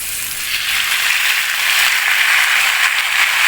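Boiled taro stems go into a hot pan with lightly fried chickpeas and sizzle loudly and steadily, a broad hissing fry that swells slightly and carries on without talk.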